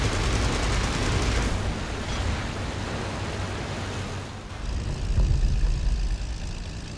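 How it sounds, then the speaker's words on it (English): A propeller warplane flies in the IL-2 flight sim, its engine a steady, dense roaring drone that holds throughout with a brief dip near the end and no talking. "The plane's still flying."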